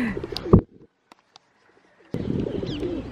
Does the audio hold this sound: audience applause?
no